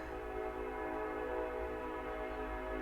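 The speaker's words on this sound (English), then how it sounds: "Pause for train." A train passing nearby, its horn sounding a sustained, multi-toned blast over a low rolling rumble of the cars, steady and somewhat distant at moderate volume.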